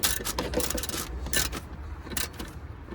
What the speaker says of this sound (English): then we just tighten up with the wrench